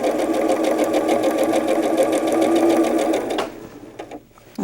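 A sewing machine stitches quilt pieces with a scant quarter-inch seam, a loud, steady close-up whir with rapid needle ticks that runs continuously, then stops abruptly near the end, leaving faint handling noise.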